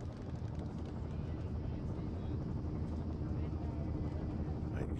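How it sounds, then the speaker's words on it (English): A helicopter in the video game Firewatch gives off a steady, low rumbling drone that holds at an even level throughout, with game dialogue voices over it. "There's the helicopter."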